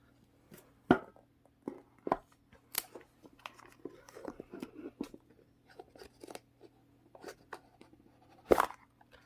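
A plastic seal on a silver Samsung Galaxy Buds box being torn open by hand: sharp, irregular crinkles, snaps and scratchy tears, close and quiet, over a faint low hum, with no speech.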